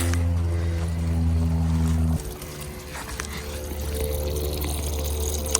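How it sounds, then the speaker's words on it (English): Water trickles steadily from the bottom of an off-grid drip irrigation bucket onto the ground beneath fruit trees, a soft continuous flow under a constant low hum. "you can see the water flowing out of the bottom of the bucket, and you can see it's hitting the ground slow enough that it's going into the ground"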